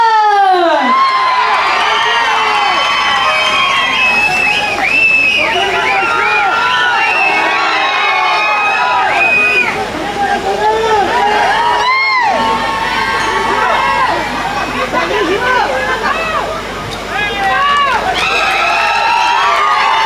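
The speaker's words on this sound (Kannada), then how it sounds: "ನಿಮ್ಮೆಲ್ಲರ ಪ್ರೀತಿಯ ಚಪ್ಪಾಳೆಯೊಂದಿಗೆ ಸ್ವಾಗತಿಸಿ" A large crowd at a Tulu movie trailer launch cheers and whoops loudly, with scattered shouts and whistles rising over continuous clapping and roaring voices for a long stretch.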